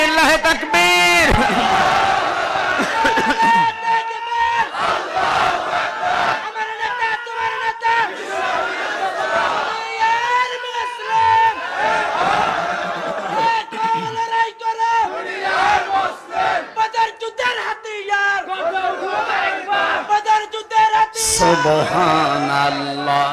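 A large crowd at an Islamic sermon gathering answers a takbir call, shouting in unison in repeated loud chanted waves, with a preacher's voice leading between responses.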